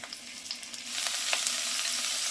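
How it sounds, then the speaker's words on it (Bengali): Broccoli florets fry lightly in a pan of oil for a vegetarian dish, giving a soft, steady sizzle that grows a little denser partway through, with faint crackles and no talking. "এবারে আমি ব্রোকলিগুলো হালকা করে ভেজে নেব।"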